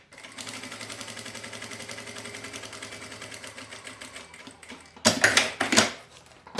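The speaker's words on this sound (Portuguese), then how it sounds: "agora eu vou passar uma costura aqui, ó, nesse meio da minha peça" A sewing machine runs a seam through pencil case fabric with a fast, steady mechanical stitching rhythm, followed near the end by a few louder clattering knocks.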